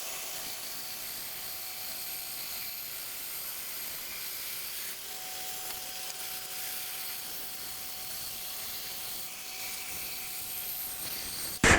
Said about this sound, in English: I'll get you at the bandsaw and let's cut these out.